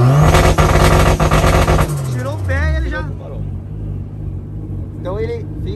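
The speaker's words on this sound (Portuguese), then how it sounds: "Aí você acelerou ele, vai cortar com 3 mil giros." A turbocharged car with a FuelTech two-step is held at 3000 rpm, giving a loud, stuttering engine roar for about two seconds. The revs then drop away, and people talk over the idling engine.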